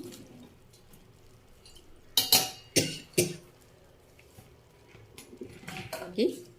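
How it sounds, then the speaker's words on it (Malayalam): A spoon knocks and scrapes against a cooking pot as mango pieces are stirred in, three sharp clanks close together midway followed by softer scraping. "നമുക്കത് നന്നായിട്ട് ഇളക്കി ഒരുപോലെ യോജിപ്പിക്കാം."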